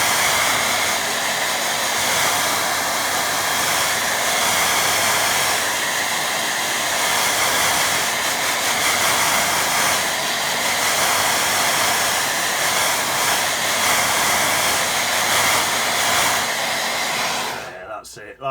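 Hair dryer blowing steadily over a watercolour painting, a loud continuous close whoosh lasting nearly the whole time before cutting off at the end.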